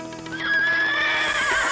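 A horse gives a loud, close neigh that rises and wavers for nearly two seconds, alone with no talk.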